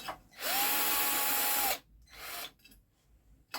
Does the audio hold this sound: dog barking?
no